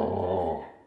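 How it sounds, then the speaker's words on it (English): A pet dog growls in one short, low, rumbling burst that fades out over under a second, close up with no talking. "Don't growl at me."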